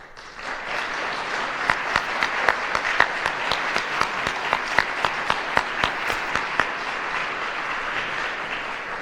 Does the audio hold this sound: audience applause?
yes